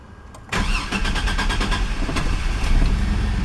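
A car with its coolant temperature sensor bypassed cranks briefly with rapid starter whirring, then catches and settles into a loud, steady idle up close.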